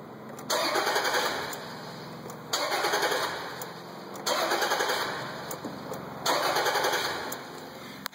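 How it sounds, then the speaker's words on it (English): Land Rover engine cranking without catching: four separate bursts of starter whirring, each lasting one to two seconds, with short quiet gaps between them. "if I just turn the key, it goes, doesn't even spark"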